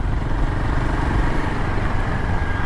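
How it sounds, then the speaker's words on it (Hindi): A Royal Enfield Himalayan 450 motorcycle rides along a wet village road, its engine giving a loud, steady, continuous drone with no talk over it. "बाइक को ड्राइव करना पड़ रहा है"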